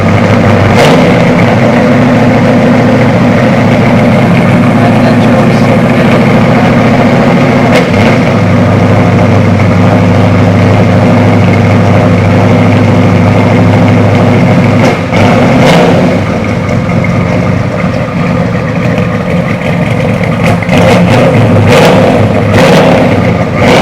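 A Ford F100 truck engine runs steadily and loud for the whole stretch, a continuous deep rumble with a few sharper rises, close to the listener and without talk.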